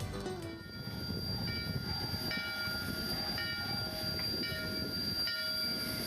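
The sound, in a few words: Durango and Silverton narrow gauge train leaving Silverton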